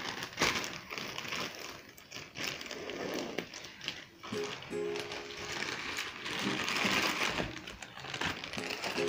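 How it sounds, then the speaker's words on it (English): Rustling, crinkling plastic and cardboard packaging as Rubik's cube packages are unboxed, with irregular close handling crackles, scrapes and small clicks. "Let's unbox it now."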